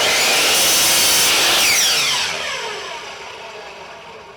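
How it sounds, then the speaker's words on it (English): A handsaw cuts a 4-inch piece off a 2x4 wood board, loud rasping strokes for about two seconds that then fade into a quieter scraping finish, close by with no voices. "Now I'm going to cut a piece of 2x4 at 4 inches long also."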